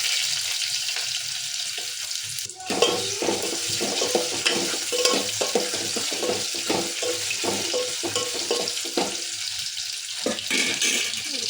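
Vegetables tossed into garlic in a cooking pan for a home-style Kannada curry, giving a steady frying sizzle with clattering stirring and scraping strokes throughout, close and moderately loud, with no talking.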